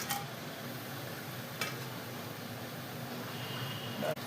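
Cinnamon, cloves, bay leaf and star anise sizzle in hot oil and ghee with a soft, constant frying hiss, broken by a couple of sharp utensil clicks at the start, middle and end.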